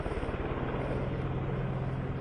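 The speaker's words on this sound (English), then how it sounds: "Mi-17 helicopter is showing the Garud commandos slithering from the helicopter" An Mi-17 military helicopter hovers during a special operations display at a high-altitude Ladakh airstrip near the China border, its rotor chopping in a steady rapid thud over a dense, loud engine roar, with no voices.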